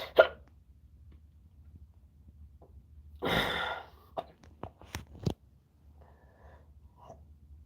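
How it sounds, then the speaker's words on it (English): Sparse hiccups from a person sitting in a quiet room, a few short, sharp catches of breath separated by seconds, faint and close, with a louder breathy rustle midway. "I fucking hate hiccups."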